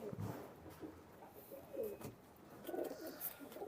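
Faint, soft cooing from old-lineage kamagar pigeons in a loft, several low throaty coos spread over a few seconds against a quiet background.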